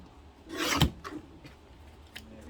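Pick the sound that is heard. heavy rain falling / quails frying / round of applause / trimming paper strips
trimming paper strips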